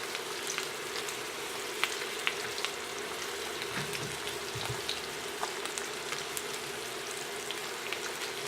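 Garlic sizzles in melted butter in a pan beside a ribeye steak, making a steady, close crackling fry with small pops throughout and no talking.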